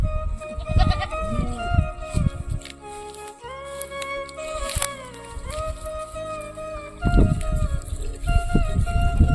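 Goats bleat loudly and close by in a mountain shepherd's flock, several overlapping wavering calls rising and falling across the stretch, with a human voice faintly mixed in.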